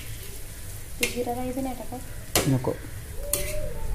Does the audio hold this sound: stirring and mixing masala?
yes